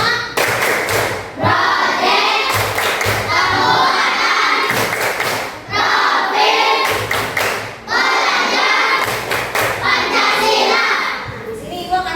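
A classroom of children performs the tepuk P5 clapping chant, with loud, rhythmic bursts of hand claps in repeated patterns alongside group chanting voices, separated by short pauses.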